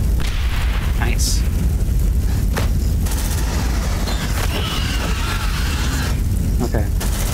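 Grenade explosion in the sci-fi tactical game Aliens: Dark Descent, a dense low boom among a busy mix of gunfire and bursts, with a player talking over the combat.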